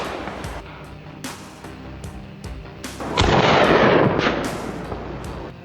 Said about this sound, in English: The shot echoed in the icy stillness, and the beast dropped right on the spot.